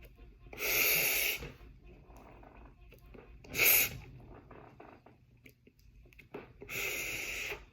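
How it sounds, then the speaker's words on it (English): A person takes deep breaths, heard as three long, airy rushes of breath separated by quieter gaps, close to the microphone. "Take a deep breath, y'all."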